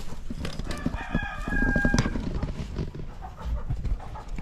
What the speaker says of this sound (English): There's cute roosters.